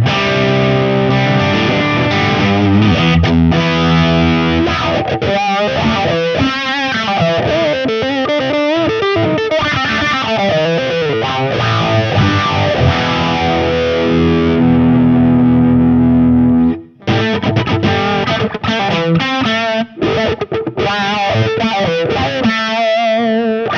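Electric guitar played through a Chi-Wah-Wah version 2 wah pedal into an MI Audio Crossover Drive, loud distorted riffs with sweeping vowel-like filter movement, continuous with one brief break near the end.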